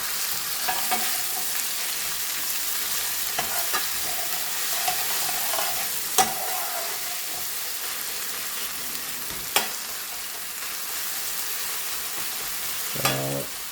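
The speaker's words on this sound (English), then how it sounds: "Now I'm going to add the onions, chilies and my" Onions, chilies and grated onions fry in a pan for Rupchanda bhuna, a soft continuous sizzle broken by a few sharp scrapes of a spoon stirring, ending in a quick rattling stir near the close.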